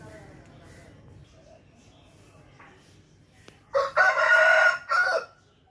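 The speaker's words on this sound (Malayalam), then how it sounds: "ഇത് അസീലിൻ്റെ 2 ഫീമെയിൽസാണ്." Two Aseel breed hens are heard. After a few quiet seconds of faint background, one gives a loud, harsh, crowing call in two bursts, close by, near the end.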